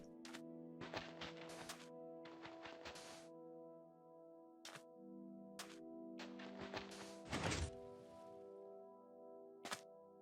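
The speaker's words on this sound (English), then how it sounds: "If I put a pulse through this piston, the observer down the end here, all of these should pretty much fire instantaneously." Minecraft redstone pistons fire in quick clusters of sharp, clipped mechanical thunks, with several bursts in a row and scattered single hits over a faint steady hum.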